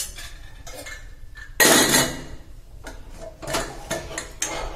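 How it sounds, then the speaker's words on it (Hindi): Clattering kitchen sounds of a metal spoon stirring dal in a pressure cooker, then a loud burst of metallic clanking as the cooker lid is shut, followed by a few lighter clinks. "अब मैं चला लेती हूँ और कुकर बंद कर लेती हूँ"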